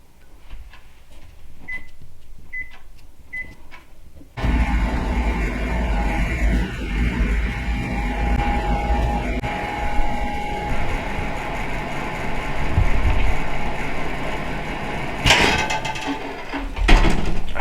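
Three short, high beeps from a microwave oven sound in quiet, then a steady loud hum with mechanical rattling takes over as it heats water, ending with a brief clatter.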